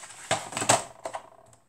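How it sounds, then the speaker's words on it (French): A paper trimmer slicing paper for a handmade craft album, heard as a short, close run of crisp clicks and scraping strokes, quiet and with no voice. "Je vais venir tout couper au massicot."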